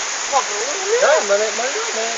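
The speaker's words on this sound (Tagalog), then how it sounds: "Umulan na po, umulan na." Rain falls in a steady, dense hiss close by, while a person talks over it.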